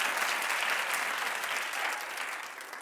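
A talk-show studio audience claps steadily for about three seconds, a dense wash of applause that fades slightly toward the end.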